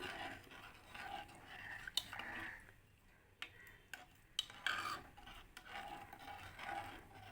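A spoon rasps and scrapes around a pot while rock salt and turmeric are stirred in, a soft gritty rubbing with a few sharper clinks against the metal, alone without talk.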